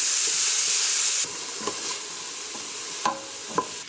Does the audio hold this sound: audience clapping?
no